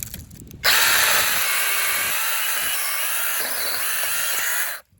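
A compact Ryojegk-brand cordless chainsaw cuts wood, giving a loud, high-pitched motor whine that starts abruptly, holds steady for about four seconds and then cuts off.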